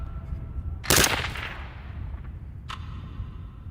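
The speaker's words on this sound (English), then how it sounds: "John, why don't you give it a couple mags out in the distance there?" An AR-15 rifle fires downrange outdoors: one sharp, loud report cracks out, then a second, fainter shot follows a couple of seconds later, each trailing into a brief echo.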